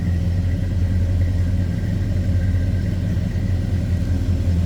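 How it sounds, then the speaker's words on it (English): A 1970 Chevrolet C10 V8 truck with Hedman headers idles through dual exhaust with a deep, loping rumble, steady and close, no talking. "Hedman headers and that dual exhaust doing its job."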